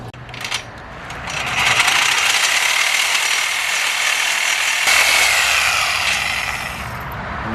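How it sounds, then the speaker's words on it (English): A Sawzall reciprocating saw fitted with a metal-cutting blade slices through bolts, a loud, steady buzzing rasp running continuously for several seconds with a brief break partway through, close by and with no talking. "take a Sawzall with a metal cutting blade, which I'll do now, and cut that off"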